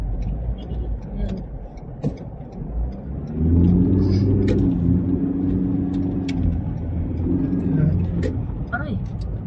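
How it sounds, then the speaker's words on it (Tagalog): Congested road traffic with cars and buses idling and creeping along, a steady low engine rumble with occasional brake hiss and clicks, while people talk inside the vehicle throughout. "Sobrang haba ng traffic."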